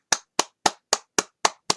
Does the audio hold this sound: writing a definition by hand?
no